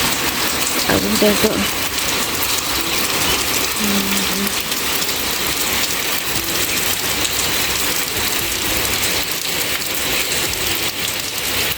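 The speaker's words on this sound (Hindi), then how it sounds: "रात से बारिश हो रही है 1:30 बजे से" Steady rain pours outside a village home in Pauri Garhwal, Uttarakhand, a dense continuous hiss throughout, with a few brief spoken words and faint background sounds over it.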